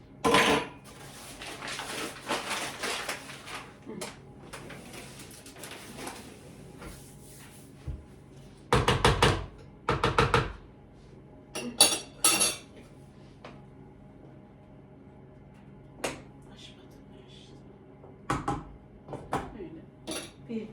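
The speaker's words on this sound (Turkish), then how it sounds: "Şimdi böyle iyice karıştırmanız gerekiyor." A spoon stirs a flour mixture in a metal pot for Turkish yayla soup, giving repeated scraping and clinking strokes in bursts, some louder knocks against the pot, with quiet gaps between.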